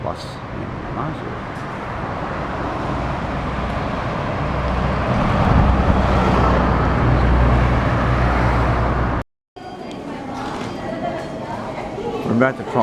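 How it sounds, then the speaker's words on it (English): A local bus rolls past on a street in Numazu, Japan, its engine rumble and tyre noise rising to a broad, loud roar before a brief cut, then lighter traffic sounds continue nearby. "Comes a local bus in Numazu."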